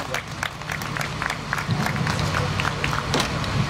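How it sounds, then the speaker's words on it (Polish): Scattered clapping from a small crowd at the finish of a rally, with Fiat 128 Rally drivers arriving, individual claps distinct over background chatter and a voice speaking. "Bardzo proszę o klaski dla panów."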